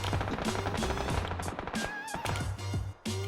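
Rapid bursts of PUBG gunfire crackle over a busy, layered game soundscape, with shots coming in quick clusters throughout as players fight in a town.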